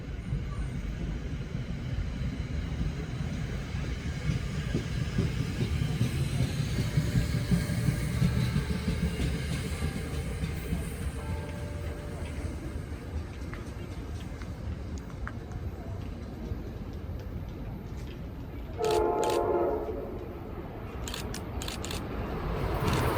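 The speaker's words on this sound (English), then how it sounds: "Amtrak Keystone Service train number 649 rolls quickly through Metuchen Station, heading south down the Northeast Corridor." Amtrak Keystone Service train 649 rolls quickly south through Metuchen Station on the Northeast Corridor, a sustained rushing rumble with rail clatter, moderately distant, and a brief tonal horn-like burst near the end.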